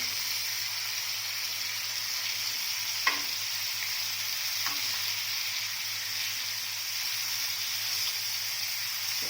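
Big surumbu fish fries in a pan with a steady, close hiss and crackle throughout, broken by a couple of faint clicks of a utensil against the pan and no talking.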